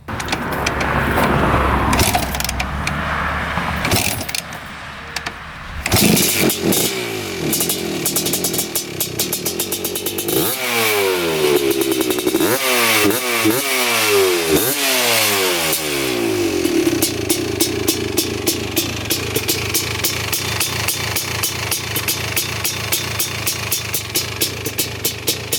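A liquid-cooled 4x4 ATV engine cranks, catches, and settles into a close, loud idle, then is blipped through several sharp revs before ticking back to a steady rapid idle.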